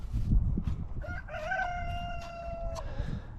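A rooster crows once nearby, a long drawn-out call holding steady before trailing off, over a low background rumble.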